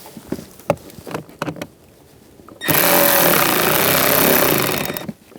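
After a few light clicks and taps, a power driver tightens screws while a Toyota Prius blower motor is replaced, a loud steady buzzing whir lasting about two and a half seconds, close up, then stopping.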